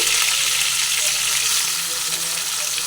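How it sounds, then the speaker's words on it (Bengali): Teasel gourd pieces frying in hot oil: a dense, loud, continuous crackling sizzle close by, steady throughout with no voices. "এরপরে তেলের মধ্যে দিয়ে কাঁকড়গুলোকে আমি ভেজে নিচ্ছি"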